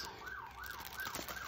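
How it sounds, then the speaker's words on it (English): An emergency vehicle siren wails on a Chicago street, its rising and falling tone cycling steadily and fairly loud over traffic noise. "Excuse the sirens, you know we're in Chicago"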